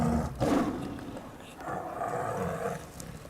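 Low roaring and growling from a tiger that has not eaten since leaving Greece, heard close up in an airport animal holding area, rising at the start and rumbling on over steady background noise.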